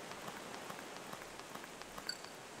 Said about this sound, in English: It's just, I don't know, fucking raining